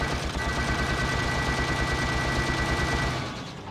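Rapid, rhythmic blaster fire from a Ratchet & Clank video game, a continuous machine-gun-like stream of shots over a droning background that fades out at the end.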